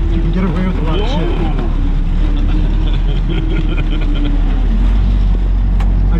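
A Jeep drives along an off-road trail in January, its engine droning loudly and steadily up close, with a brief rise in revs early on and no talk.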